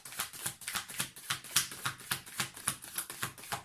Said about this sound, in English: They want one more, so we're gonna shuffle and get one more.